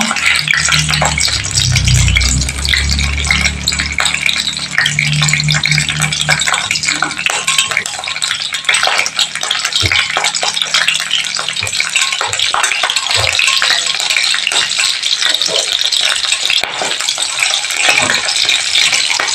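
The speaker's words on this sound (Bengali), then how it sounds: "এবার তেলের মধ্যে আমি একটা গোটা শুকনো লঙ্কা, আর কিছুটা কাঁচা লঙ্কা," A whole dry red chilli and green chillies hitting hot oil: loud, continuous hissing sizzle with crackling spatter that stays dense and steady for the whole stretch, close by, with a brief low rumble near the start.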